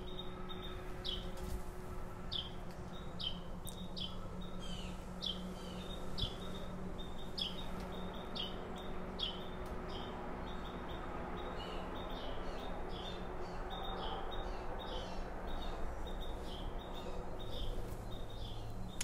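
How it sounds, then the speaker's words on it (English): A tiny chickadee sings loudly near a seed feeder, giving repeated bright high chirps and whistles through the whole stretch, with a steady hum of background noise underneath. "It's some kind of chickadee, but it definitely likes that seed."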